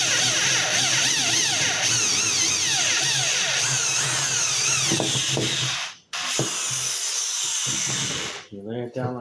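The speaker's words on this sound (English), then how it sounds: "When you want a variable speed drill, you want to control the speed of your drill, that's RPM." A variable speed power drill runs in pulses, its whine rising and falling as the speed is varied, loud and close, with a brief stop midway and a short final burst at the end.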